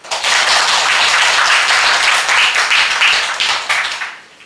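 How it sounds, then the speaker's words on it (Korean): A church congregation bursts into loud, dense applause that holds steady for about four seconds, then tapers off quickly at the end. "다시 한번 박수하겠습니다"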